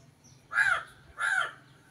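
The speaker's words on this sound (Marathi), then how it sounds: "एक कावळा येतो आणि ओरडतो" A crow caws twice, harsh and fairly close, in two evenly spaced calls over a quiet home morning background.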